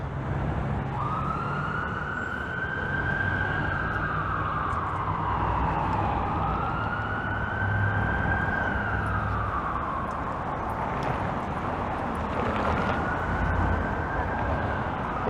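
An ambulance siren wails in long rising and falling sweeps as it heads west along Dundas Street in downtown Toronto near Hospital Row. The siren is loud and steady for the whole stretch over a constant bed of city street noise.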